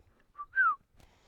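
A rider whistles a stop cue to a horse: a brief soft note, then a longer, louder falling whistle, clear and close with nothing else around it.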